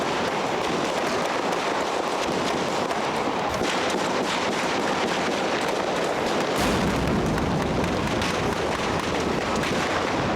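Loud, dense crackling gunfire and blasts run continuously with no pauses, rising in intensity partway through, in a harsh outdoor scene during a military hostage-rescue operation.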